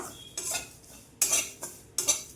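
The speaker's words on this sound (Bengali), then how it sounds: "এই যে এটা একটু শুকনো খোলাতে ভাজে নিচ্ছি।" Semolina dry-roasts in an ungreased pan as a utensil scrapes and clinks against it in three or four short bursts, close and quiet, with no voices.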